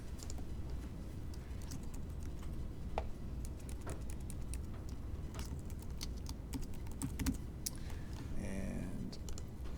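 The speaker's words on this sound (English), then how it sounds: "I typed out my name there." Close, steady clicking of computer keys as a name is typed out, over a constant low background hum and with no one speaking.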